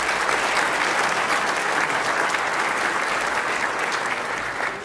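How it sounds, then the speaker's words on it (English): Loud, sustained applause fills the room at the Ethnic Business Awards gala presentation dinner, a dense continuous clapping from a large audience lasting throughout with no break. "How about another round of applause for Qantas?"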